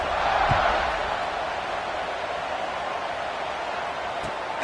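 Large stadium crowd at a college football kickoff between Michigan and Tennessee, a steady broad roar of cheering that holds loud and even throughout, with a brief swell near the start.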